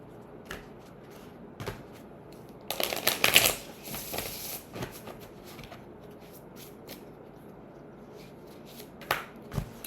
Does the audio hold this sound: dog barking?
no